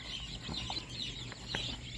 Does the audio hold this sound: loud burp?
no